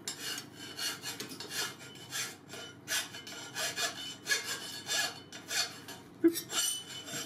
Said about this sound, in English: The noise you're going to hear in the background in this clip is Eben filing something